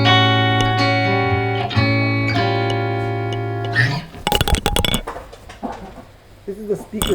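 An electric guitar runs through a Universal Audio pedal on a speaker drive setting imitating an older speaker. Sustained chords ring out and slowly decay, followed by sharp muted strums and scratchy picked hits.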